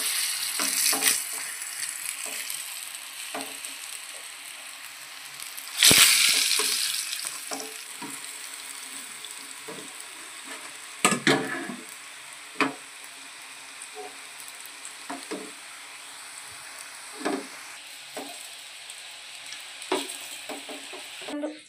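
Coconut pitha frying in oil: steady sizzling fills the clip, with occasional scraping and stirring knocks from a utensil and a louder burst of frying partway through.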